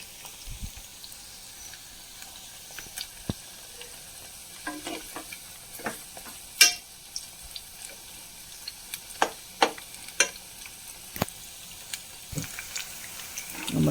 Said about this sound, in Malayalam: അതുകൊണ്ട് നമ്മൾ 2 ബാച്ചായിട്ട് വറുത്തെടുക്കണം